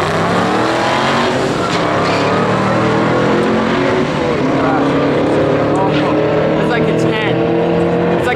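A Ford Cobra and a Mustang drag race at night at Las Vegas Motor Speedway. Loud, sustained engine roar with shifting revving tones fills the scene, and spectators talk over it.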